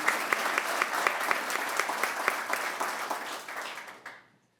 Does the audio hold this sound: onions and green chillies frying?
no